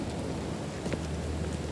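Rain falls in the eerie flooded-city game The Sinking City, a steady, moderately loud wash of rainfall with a faint rumble beneath and no talking.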